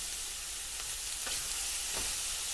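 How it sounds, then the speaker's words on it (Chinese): Chicken and green peppers stir-fried over high heat in a wok, a steady loud sizzle with spatula scrapes and tosses at irregular intervals, no voices. "我们再把青椒加进来，这里我们需要开大火快速的翻炒，翻炒均匀"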